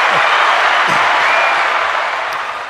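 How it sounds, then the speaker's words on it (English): An indoor audience gives a steady wash of applause, a dense, even hiss of many hands that holds for a couple of seconds and fades slightly at the end. "Give a round of applause."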